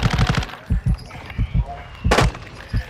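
Rapid bursts of gunfire crack in Call of Duty, a cluster of close, punchy shots followed by scattered single reports and another quick volley.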